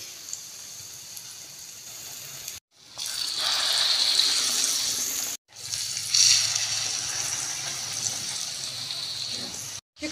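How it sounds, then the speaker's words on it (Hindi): Potato tikki kebabs sizzle in hot oil as they are dropped in one by one, a steady close hiss broken by brief gaps between additions, with a voice faintly underneath. "ऐसे 1 बाय 1 हम डालते जाएंगे और फ्राई करते जाएंगे।"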